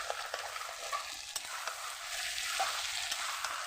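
Chicken curry being sautéed and stirred with home-ground spices in a pan, a steady close sizzle with scraping stirs and small spatters, no talking.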